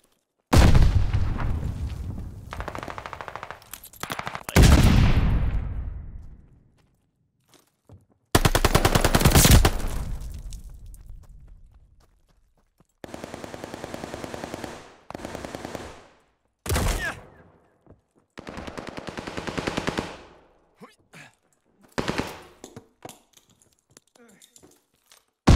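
Bursts of MP40 submachine gun fire in a Call of Duty ranked multiplayer match, several loud rapid volleys separated by short pauses, with game effects in between.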